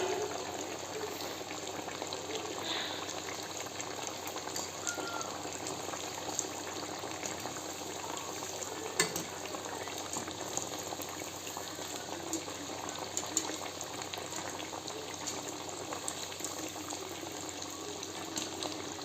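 Sabudana vada frying in hot oil: a steady, dense bubbling sizzle runs the whole time at an even level, close and continuous, with no talking.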